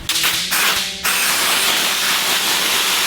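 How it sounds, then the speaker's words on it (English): Compressed air blasts dust off a car roof panel before vinyl wrapping, with short hissing bursts followed by a sustained loud, close rush of air. "grab the compressed air and blow it off"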